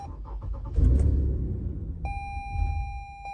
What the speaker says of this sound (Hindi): गाड़ी स्टार्ट होते साथ ही बंद हो जाती है।